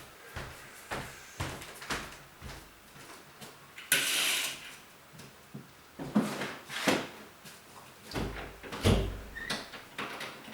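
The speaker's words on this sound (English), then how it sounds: "we need to close the door" A door in a hot apartment is closed with several knocks and thumps, a louder bang partway through and more handling clatter after it, all close by with no talk.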